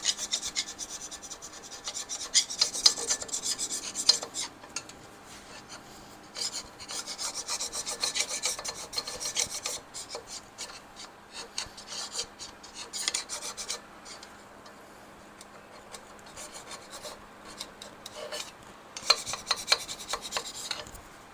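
A carbide scraper rasps across a Shovelhead engine surface during intake and front head work, a steady run of close scraping strokes with brief pauses, no talking.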